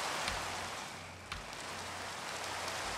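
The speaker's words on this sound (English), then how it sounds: "It's fucking raining." Steady rainfall in the video game Minecraft, an even, close hiss of rain that carries on through the whole stretch, with a couple of faint soft thumps underneath.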